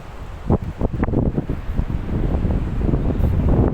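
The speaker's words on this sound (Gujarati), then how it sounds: "અત્યારે પવન બહુ વધારે છે" Strong gusts batter the microphone with a roaring rumble, while surf washes in and out faintly beneath the wind, on the seashore at Dandi, Gujarat.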